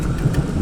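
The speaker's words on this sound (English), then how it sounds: "The rain is here." Heavy rain from a storm over a lake on a small island makes a dense, steady, loud roar with a low rumble underneath and no voices.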